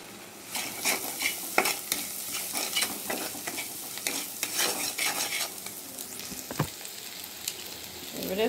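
Garlic paste and chili powder frying in a pan while being stirred, a close, crackling sizzle with repeated scraping spatula strokes in an uneven rhythm, no voices.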